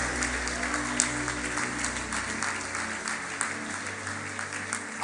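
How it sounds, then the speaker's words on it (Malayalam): A church congregation applauds during a Malayalam Christian sermon, a dense and sustained wash of clapping with a few sharper claps near the start and end. "ഒന്ന് കൈയടിച്ച് കർത്താവിന് നന്ദി പറഞ്ഞേ"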